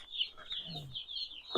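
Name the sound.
chickens clucking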